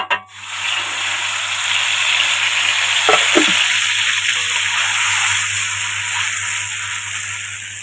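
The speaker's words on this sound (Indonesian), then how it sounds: "kita tumis sampai harum nih ya" A loud, continuous sizzle and hiss of blended chili paste frying in hot oil, close up, with a brief stir or scrape partway through.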